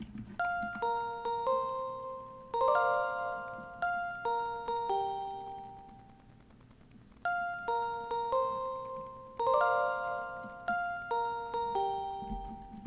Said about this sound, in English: Then I added this bell from Xenology called bell 1.